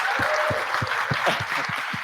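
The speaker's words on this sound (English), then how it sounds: "Can you guys give us a clap?" An audience at a youth ecopreneur award finals event applauds. The clapping is steady and dense for about two seconds, with no talk over it.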